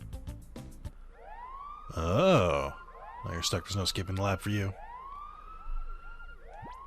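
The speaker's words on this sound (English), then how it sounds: "this siren is much better than the cool music that was playing in the background" Police siren from the Pokemon Colosseum game, wailing in repeated rising and falling sweeps through most of the stretch, moderately loud, with someone talking over it at intervals.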